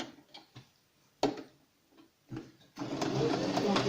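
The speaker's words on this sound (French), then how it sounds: "je vais coudre en haut et en bas" A domestic sewing machine stitches the lining of a fabric protective mask: a few isolated ticks and taps, then a steady close whirring run of stitching that continues to the end.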